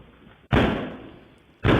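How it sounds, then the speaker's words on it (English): A door is kicked hard twice, each blow a heavy slamming thud that booms and then decays, the second landing about a second after the first, close and loud over a muffled background. "he's trying to kick into another door"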